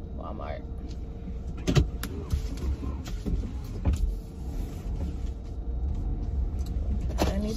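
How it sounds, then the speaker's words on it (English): Inside a car on the road, a steady low engine and road rumble fills the cabin, with a few sharp clicks and thumps from inside the car and a faint whine near the end. "I'm in the car on my way to"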